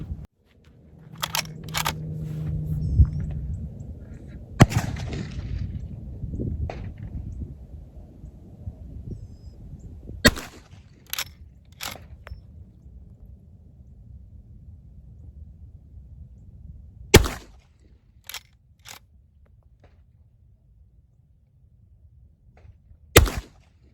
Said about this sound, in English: I'm going to shoot them off the shoulder, and I'm using the Rossi R92, and that's in 44 Magnum, 240 grain Winchester white box.